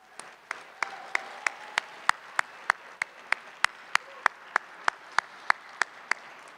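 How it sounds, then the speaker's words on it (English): Slow, evenly spaced single claps from the audience at the ETHDenver 2023 BUIDLathon hackathon awards, about twenty sharp strikes at a steady rhythm over a quiet room background, with no talking. "So please, a round of applause for them."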